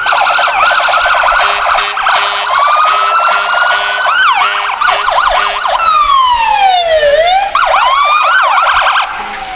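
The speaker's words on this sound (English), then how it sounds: "These kids love those sirens." Fire engine sirens wail and yelp loudly and continuously at a Christmas parade, several sirens overlapping with sweeping up-and-down tones.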